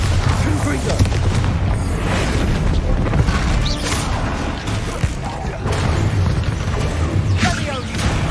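Spell explosions from Bombarda and Confringo blasts in Hogwarts Legacy, a string of booming crashes and bursts over several seconds, loud and close, mixed with game effects and some speech.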